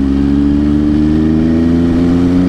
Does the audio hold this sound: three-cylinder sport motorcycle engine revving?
yes